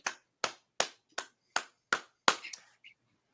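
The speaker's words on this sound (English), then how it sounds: "Round of applause." A few people clapping in slow, separate claps, about eight distinct sharp hand claps spaced evenly and close by, with a faint trailing tap at the end and no voices.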